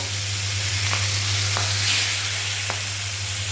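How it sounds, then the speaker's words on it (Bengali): Mustard-coated hilsa fish pieces frying in hot oil in a kadai, a constant dense sizzle with a low hum beneath and a few faint clicks, close by and without speech. "সর্ষা দিয়ে তেলের মধ্যে দিয়ে দিলাম এক এক করে মাছ"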